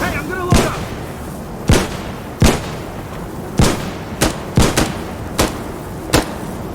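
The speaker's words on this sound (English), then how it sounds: "I'm throwing bottle bomb!" Bottle bombs and gunfire in Insurgency Sandstorm burst out as a string of sharp, loud blasts, about nine spaced cracks over several seconds with brief decaying tails between them.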